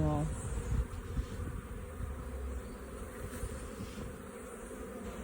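A dense, steady buzz of many bees fills the air close by, a continuous droning hum with a brief rustle at the start.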